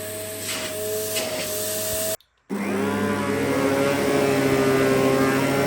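A Kenmore Progressive canister vacuum whines steadily through its hose, cuts out for a moment, then restarts and rises into a strong, airy suction roar, air leaking from the hose.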